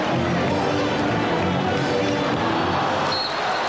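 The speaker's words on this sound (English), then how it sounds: "the crowd trying to get the Knicks going" Basketball arena crowd in a 1994 Eastern Conference Finals Game 7, Pacers at Knicks, cheering and urging on the Knicks, a dense, steady roar of many voices with a broadcast commentator speaking over it throughout.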